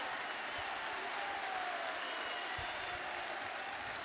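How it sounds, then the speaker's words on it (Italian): Crowd applause for footballer Paulo Dybala at his presentation at the Colosseo Quadrato in Rome, a constant, distant-sounding roar of clapping and cheering from a large outdoor gathering. "un grande applauso a Paolo Dybala"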